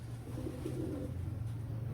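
Soft, rolling coos from Teddy pigeons in a loft, heard up close as a low continuous warble with gentle pulsing.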